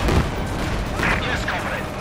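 Gunfire in Company of Heroes 2, a brief burst of loud, close shots in a dense combat mix, with a voice speaking over it.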